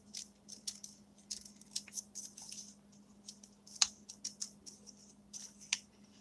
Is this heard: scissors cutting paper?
yes